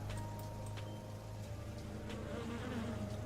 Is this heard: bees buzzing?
yes